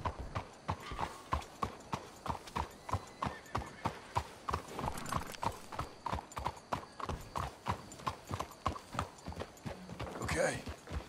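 Several horses from Red Dead Redemption 2 clip-clop along at a steady walking rhythm, hooves close and even, with a brief whinny near the end and occasional talk in the background.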